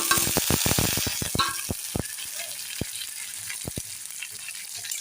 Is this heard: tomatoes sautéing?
yes